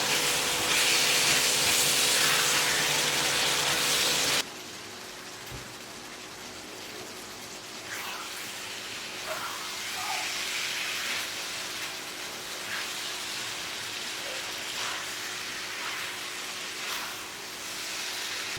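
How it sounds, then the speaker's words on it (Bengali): Vegetables and green chillies sizzling in a pan, a loud bright hiss at first, then a quieter steady sizzle with scattered scraping and stirring clicks. "এরপর ভালো মতো নেড়ে জাল করব আরও 3 থেকে 4 মিনিট।"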